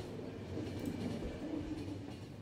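A locomotive engine from The Final Station, a steady rumbling and rattling train drone with a faint clatter of wagons, constant and moderately close with no voices.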